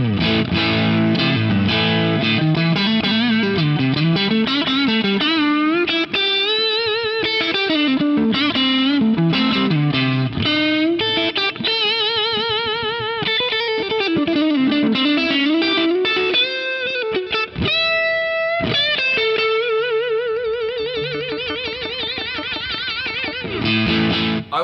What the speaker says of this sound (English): now with the sustain cranked up a little bit.